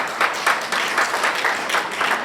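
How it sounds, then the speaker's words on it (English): Audience applause fills a hall at a bar week opening ceremony of a legal association branch in Eket, a dense, steady wash of many hands clapping at moderate loudness with slight swells, no talking over it. "I think my lord deserves a resounding applause."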